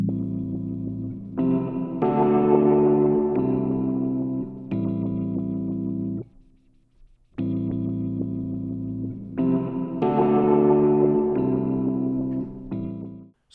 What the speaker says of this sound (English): I now have this reverb effect fading in and out.